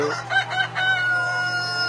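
Laying hens clucking and a rooster crowing amid a busy coop on a Korean egg farm, with a constant low hum underneath.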